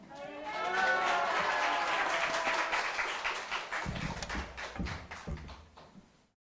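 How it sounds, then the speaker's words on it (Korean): Congregation in a Korean church clapping to welcome the pastor, a swelling mix of voices and applause that gives way to scattered individual claps as it fades. "우리 목사님 나오실 때 할렐루야로 크게 박수로 환영하겠습니다"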